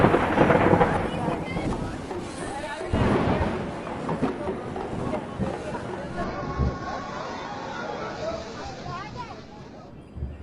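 Heavy monsoon rain and thunderstorm in the Kedarnath valley, with loud thunder cracks and rolling rumbles over steady rain hiss, fading somewhat toward the end.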